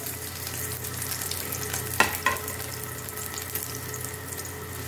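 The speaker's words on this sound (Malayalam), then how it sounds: "വെളുത്തുള്ളി ഇട്ട് നമുക്ക് ചെറിയ ഉള്ളി അരിഞ്ഞത് ഇട്ട് കൊടുക്കാം." Garlic and chopped shallots fry in a pan for a ragi vegetable soup, giving a steady close sizzle throughout, with a couple of brief clinks or stirring knocks partway through.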